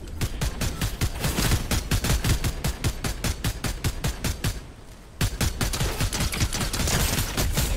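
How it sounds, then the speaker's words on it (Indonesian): Rapid automatic gunfire from the video game Fortnite hammers away in fast, evenly spaced shots, loud and close, pausing briefly midway before the burst resumes, with no talk over it. "Dia mau nembak nih."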